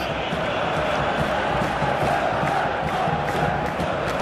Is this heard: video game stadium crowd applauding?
yes